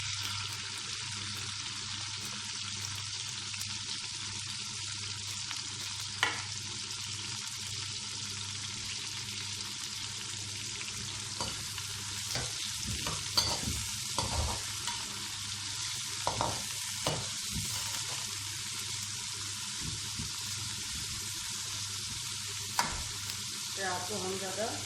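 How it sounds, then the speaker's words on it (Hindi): Sliced onions fry in hot oil for Chitrali biryani, with a steady, loud sizzle throughout and repeated scraping and clinking of a spoon stirring the pan, no voices. "तेल हमारा गर्म हो चुका है, अब इसमें हम ये प्याज डाल देंगे।"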